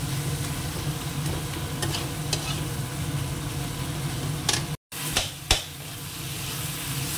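Poppy seed and green chilli paste frying in a pan, giving a steady dense sizzle with a few sharp stirring scrapes and a brief dropout near the end.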